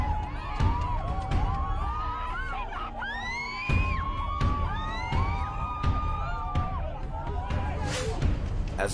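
A passionate crowd shouts, whoops and screams at police outside a church, many overlapping voices rising and falling in a loud, sustained, chaotic din with occasional bangs.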